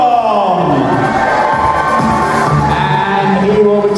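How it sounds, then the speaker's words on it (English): An arena crowd at a robot combat event cheers and whoops as a fighter is announced, a loud roaring mass of voices with shifting shouts and some applause mixed in. "Please give him a grand applause and welcome into the arena"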